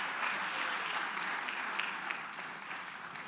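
An audience of several hundred people at a conference applauds in a large hall, a dense, steady wash of clapping heard from a distance with no talking.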